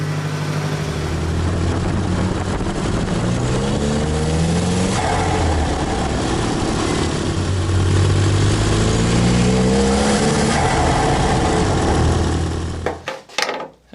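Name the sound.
Nissan 200sx engine running during short drive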